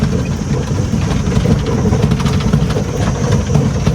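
A tractor engine runs steadily in the open salt flats of the Little Rann of Kutch, a continuous low rumbling drone with a rough, throbbing texture that holds at a constant level for the whole stretch, with no talk over it.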